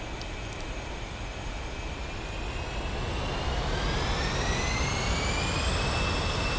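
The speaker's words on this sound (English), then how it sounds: "Both engines are running," Twin A-10 jet engines throttle up to full power in the DCS World flight simulator, producing a loud, steady roar with a turbine whine that climbs in pitch.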